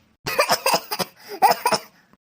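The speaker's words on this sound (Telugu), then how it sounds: "దగ్గినట్టు యాక్టింగ్ చేయన్నా" A woman fakes a cough for a village comedy skit, producing a run of six or seven loud, close, forced coughs in quick bursts.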